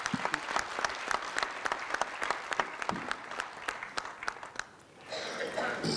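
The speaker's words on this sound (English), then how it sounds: "Can we now clap hands as a Congress to all those organizations that have written to us messages of support" Delegates at a NEHAWU union congress applaud, a busy, continuous patter of many hands clapping for several seconds, then dying away into a brief lull before a low crowd murmur rises.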